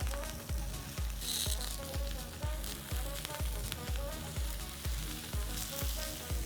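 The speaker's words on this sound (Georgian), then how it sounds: "ზუსტად იგივენაირად დავბრაწოთ ნიახურის ძირები." Four celery roots fry in oil with a steady, loud sizzle and crackle, joined by a rhythmic scraping stir that repeats about every half second.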